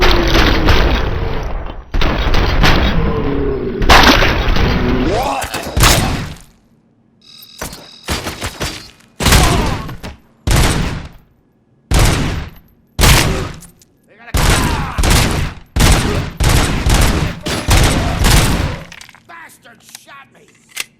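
Heavy gunfire in the video game RoboCop: Rogue City: loud, close bursts of shots in a sustained volley, then a string of separate sharp blasts with short gaps between them.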